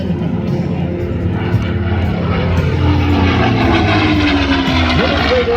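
A P-51 Mustang propeller fighter flies at the Truckee Tahoe air show, its loud, continuous engine roar shifting pitch as it passes, with a voice talking over it.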